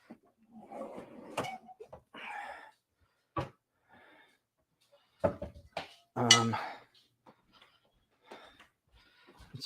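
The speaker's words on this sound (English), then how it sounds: "I have a ton of cast iron pans going on here." Cast iron pans handled on an outdoor cooking setup, giving scattered clanks and clinks of heavy metal cookware in short irregular bursts, with quiet gaps between them.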